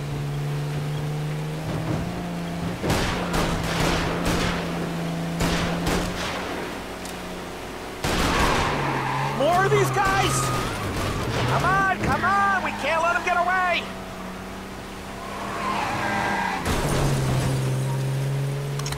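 Car skidding and wrecking in Mafia Definitive Edition: engine roar with squealing tire skids and crashing thuds over about twenty seconds, voices talking over the action.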